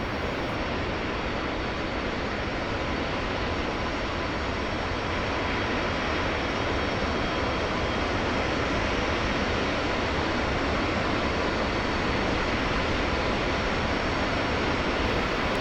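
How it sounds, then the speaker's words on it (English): Dassault Mirage 2000C jets in DCS World rolling past on the ground, a steady, loud broadband jet roar that holds constant throughout with no voices over it. "Let's take a moment and watch a couple of the M-2000Cs taxi by."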